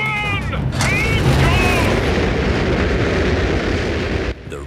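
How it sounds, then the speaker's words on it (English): A cartoon rocket from Peppa Pig blasts off after a countdown: a loud, sustained roaring rumble with whooshing sweeps near the start, holding steady for about four seconds before cutting off abruptly. "the rocket is flying back home"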